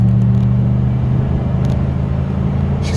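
Car engine running after a K&N aftermarket air filter install, a steady, close, loud low rumble that holds an even pitch throughout without clear revving peaks.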